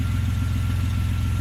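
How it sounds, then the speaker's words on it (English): A car engine idles slightly high, a steady close-up low rumble with an even pulsing throb and no other sounds throughout. "it's idling a little high"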